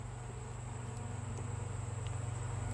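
Honey bees hum from an opened hive during a frame inspection, a steady low buzzing drone that holds throughout at moderate level, growing slightly louder toward the end, with no talk.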